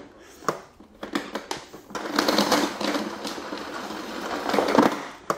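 A Rowenta Silence Force vacuum cleaner reels its power cord back in, a fast rattling, clattering whir lasting a few seconds after some light clicks and knocks.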